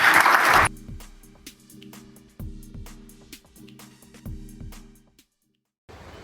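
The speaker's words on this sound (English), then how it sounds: "give Khari Blasingame a round of applause" Applause from an audience at a pro athlete interview event: a loud burst of clapping at the start, then stops, leaving quiet background sounds.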